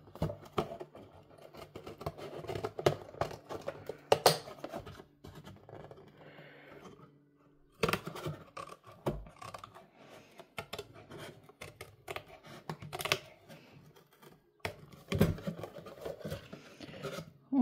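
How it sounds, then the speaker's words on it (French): Scissors snip and scrape around the edge of a recycled cardboard box in a string of quiet, irregular cuts, with soft rustling and occasional louder clicks close by. "Je vais suivre avec mon ciseau, ça sera mieux. Et je découpe"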